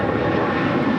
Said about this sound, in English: 757-200. She's 28 years of age, rolling down 25 right